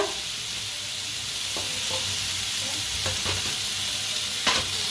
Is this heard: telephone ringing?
no